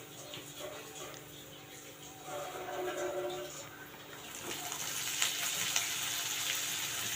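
Masala with Kashmiri chili powder and homemade onion-garlic masala sautéing in hot oil, giving a steady soft sizzle with occasional crackles that grow a little louder toward the end, under a faint voice.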